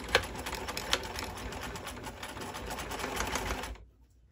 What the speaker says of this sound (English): I'm gonna start at the end. And I'm gonna backstitch.